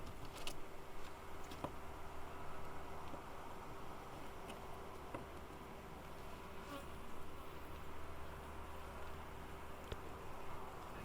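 Honey bees from a one-week-old package colony buzz in a dense, steady drone during an open hive inspection, close and continuous, with a few faint clicks and knocks of frames and tools.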